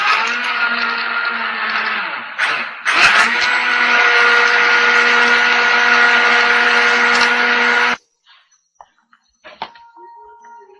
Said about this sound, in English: In goes the old handheld blender.